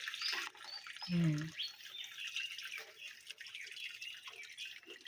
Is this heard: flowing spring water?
yes